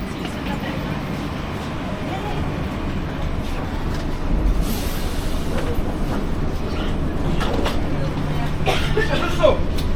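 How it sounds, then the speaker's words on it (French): Airport metro train running, a steady low rumble with rail clatter, under a murmur of people talking nearby throughout. "Je pense même que je vais prendre le métro dans l'aéroport."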